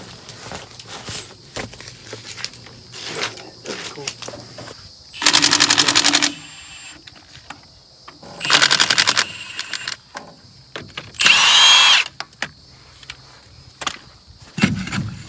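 Impact wrench bursts off lug nuts on the wheels of an abandoned 1974 Ford F250 Custom with a 390 V8, pulled from a swamp: three loud rattling bursts of about a second each, spaced apart, over quiet outdoor background.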